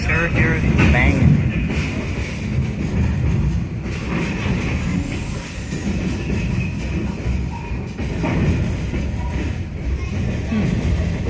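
A train rumbles steadily past nearby at Steamtown, its wheels clacking and banging rhythmically on the rails, with a person talking faintly underneath.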